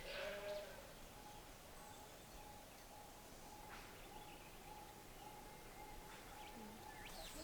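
Sheep bleating on a rainy Australian homestead, a few brief calls over steady rain-like background noise, with faint bird calls and a soft tonal hum throughout.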